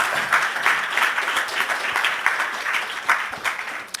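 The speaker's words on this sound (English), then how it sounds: "Let's give all of our contestants a round of applause." An audience applauds contestants at a university Three Minute Thesis final round, a sustained wash of many hands clapping in a room, steady and fairly close, with no talking.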